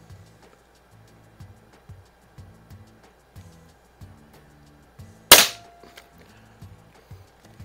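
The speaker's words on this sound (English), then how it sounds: "just do a couple of shots across the group, or across the garage here" One loud, sharp report from a Crosman 760 self-cocking pellet rifle fired across a garage, a crisp snap with a short ringing tail over faint steady background ticking.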